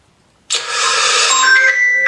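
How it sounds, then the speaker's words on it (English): A mobile phone starts ringing abruptly and keeps going, loud and close, a steady electronic ringtone with no one speaking over it. "There's his phone going, look."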